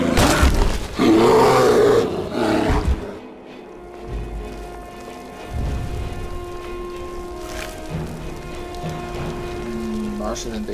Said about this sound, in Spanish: vamos a por el oso polar